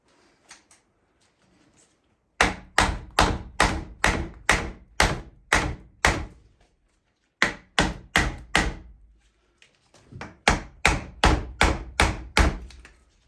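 Repeated firm tapping knocks as pieces are tapped down into holes on a chair, in quick rhythmic runs, several bursts of sharp thuds separated by short pauses, close by.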